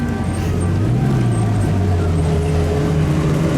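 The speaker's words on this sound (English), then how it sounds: "Chiron Supersport pulling up." A Bugatti Chiron Super Sport pulls up at an event smelling of race fuel, its engine a steady, loud, close low rumble that holds throughout with no pauses.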